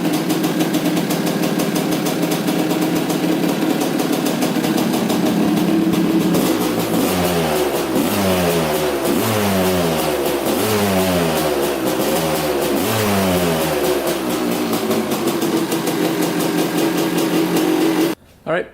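A 1987 Honda TRX250R quad's two-stroke engine running, steady idle that breaks into a series of repeated loud throttle revs rising and falling, near and continuous, cutting off abruptly at the end.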